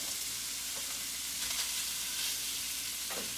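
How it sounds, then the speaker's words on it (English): Kielbasa browning in olive oil fills the pan with a steady, dense sizzle and faint crackle, heard close up and unbroken, with no voices over it. "get all this kielbasa in here and we're gonna go ahead and brown it"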